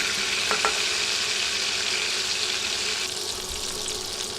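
Steady crackling sizzle of shrimp lightly frying in hot oil, close and continuous, with a couple of brief clinks early on.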